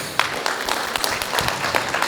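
An audience applauds sponsors at a cup launch event, a steady wash of many hands clapping with sharper individual claps poking through.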